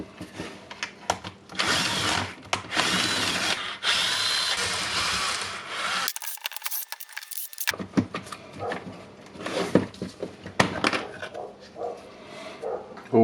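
A Bosch 18V cordless rotary hammer drill with an intermittent wiring fault runs in bursts, whirring loudly, stopping and restarting with brief gaps and handling clatter between runs.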